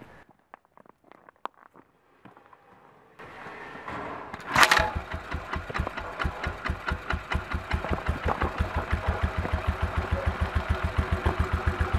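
A BMW R27 single-cylinder motorcycle engine fitted with a Mikuni carburetor starts after a few faint clicks and settles into a loud, steady idle with a regular, even thumping beat.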